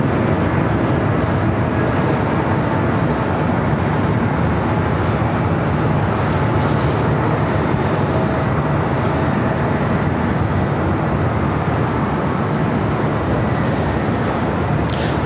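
An Airbus A330 airliner arriving from Honolulu at LAX, heading to the south side, gives a loud, steady broadband roar that holds evenly throughout with no voices over it.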